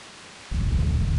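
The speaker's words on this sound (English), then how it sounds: "one day, a terrible storm beset the village" Deep rolling thunder from a storm in the video game Grandia II breaks in suddenly after a brief hush, a loud, sustained low rumble that fills the rest of the moment.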